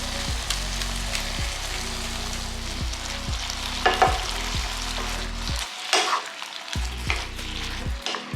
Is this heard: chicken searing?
yes